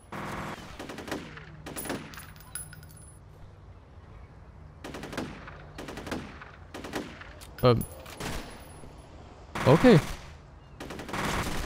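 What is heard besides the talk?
gunfire from a weapon in the video game F.E.A.R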